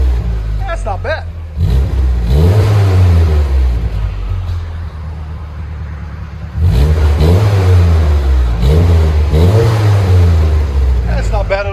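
A 1993 Mitsubishi Mighty Max pickup engine revs hard twice through a Flowmaster Flow FX exhaust, each deep, rising-and-falling rev loud and close over a steady idle rumble.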